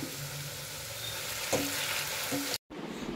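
Potato slices fry in hot oil with a soft, continuous sizzle, close but quiet, a faint stir or clink in the middle and a short dropout near the end.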